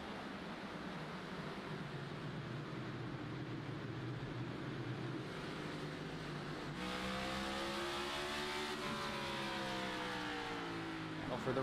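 Stock cars roaring away at the start of a Cup Series race at Martinsville, a loud continuous engine drone that swells as the pack accelerates, with a race commentator talking over it.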